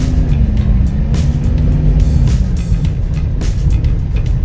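A Mitsubishi Pajero's 4M41 diesel engine runs loudly and close by after an injection pump conversion, a dense rumbling drone that stays steady throughout with a slight pitch drop midway.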